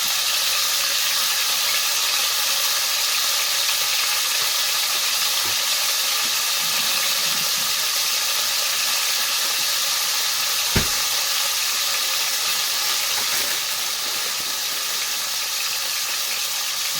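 Frozen onions sizzling in a pan alongside Angus sirloin steak, a steady loud hiss and crackle that carries unbroken throughout, with one brief knock partway.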